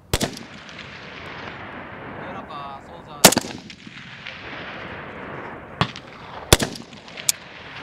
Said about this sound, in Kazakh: Сержант Парат ок атууну аяктады